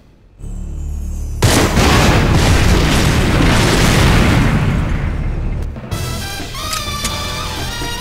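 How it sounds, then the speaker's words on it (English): Fireworks explode in the James Bond 007 Agent Under Fire video game, with a loud sustained burst of booming blasts, followed by a quieter stretch of crackling and ringing tones. "Fireworks."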